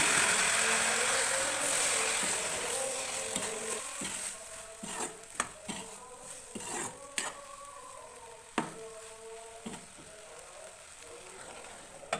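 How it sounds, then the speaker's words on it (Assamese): Chopped chojona (drumstick) vegetables sizzle steadily in a pan as water is sprinkled over them, with a soft hiss under scattered stirring clatters and sharp utensil knocks against the pan. "এতিয়া ইয়াতে দি দিম অকণমান পানী ছটিয়াই ছটিয়াই অলপ ভাজি ল'ম।"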